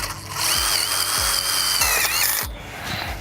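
A power drill drives tek screws into a metal purlin, the motor whining loud and steady at close range, with several low thumps as each screw seats.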